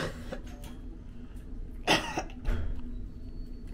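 A woman recovering after childbirth coughs once, a sharp throaty burst close by, followed by a softer second cough amid quiet room noise, with no talking.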